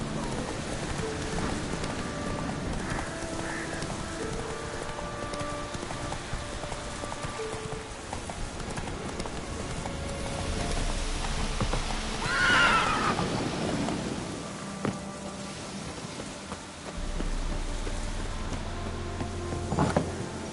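A horse in The Witcher video game gallops with steady rhythmic hoofbeats and gives a clear neigh partway through, mixed with rain-like game ambience and a voice speaking.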